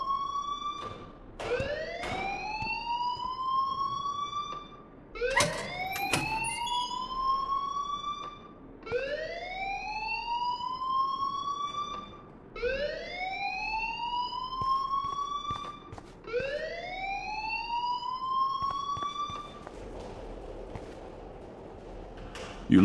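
An in-game alarm in Life is Strange wails in repeated rising sweeps, about six cycles with short gaps between them, loud and alone with no talking.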